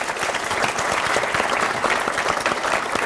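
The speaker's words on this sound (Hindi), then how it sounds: "तालियों से स्वागत कीजिए लक्ष्मी का।" Studio audience applause greeting an acid attack survivor onto a Hindi talk show stage, loud, dense and continuous clapping from many hands filling the whole stretch.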